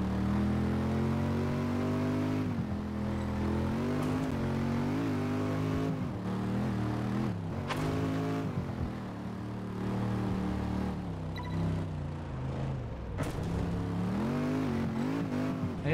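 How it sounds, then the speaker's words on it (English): Car engine in Test Drive Unlimited 2 revving hard with wheel spin, a loud continuous harmonic drone rising and dipping through gear changes, with brief sharp shifts, no talking. "Too much wheel spin. Not enough go."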